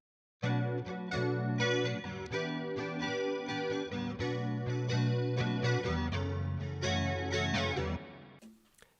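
Electric guitar played through Amplitude 5's Fender Twin Reverb amp model with Boss chorus, in a rhythm tone: a clean, shimmering chorused chord progression, steady and close, ending in a short fade.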